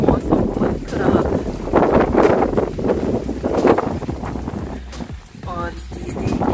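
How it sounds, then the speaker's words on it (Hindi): Strong wind buffets the microphone in a steady roar, with rough gusts throughout and a voice faintly mixed in. "बहुत तेज हवा है, अभी बारिश नहीं है पर मौसम बहुत खराब है।"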